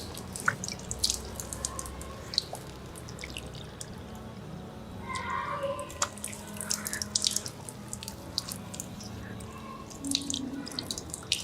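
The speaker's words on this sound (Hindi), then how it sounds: "ऐसे चुल्लू में पानी लेंगे दोनों हाथों से और आहिस्ता से ये हाथ पूरे चेहरे पर फेरेंगे" Water scooped in both cupped hands and spread over the face during wudu ablution: soft irregular splashes and drips over a steady running-tap hiss, close by, with no talking.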